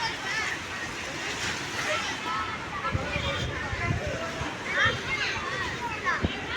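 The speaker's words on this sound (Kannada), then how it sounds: "ನೋಡಿ ಅಲ್ಲಿ ನೀರು ಬರ್ತಾಯ್ತೆ" Water rushes in a steady, broad roar from the opened Hemavathi dam outflow, with people talking over it and wind buffeting the microphone.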